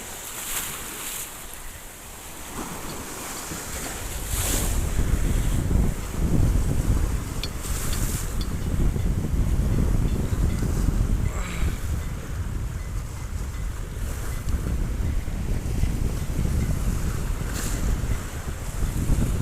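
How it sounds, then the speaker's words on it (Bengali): Waves roll in on the Bay of Bengal just before high tide, a continuous surging wash with heavy wind buffeting the microphone and a few louder breaking swells. "পানি অনেক ঢেউ আসতেছে"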